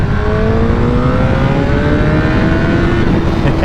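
Motorcycle accelerating hard on a ride, a loud close engine roar rising steadily in pitch through the gears, with constant rushing wind noise.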